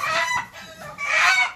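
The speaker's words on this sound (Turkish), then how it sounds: "Bakın bu da horozumuz dostlar." A Leghorn rooster crows loudly and close, a strained two-part call lasting just over a second.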